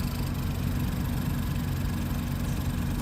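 A Ford Focus EcoBoost engine with a throttle actuator stuck-closed fault runs with a steady, close, low droning hum and no clear change in pitch.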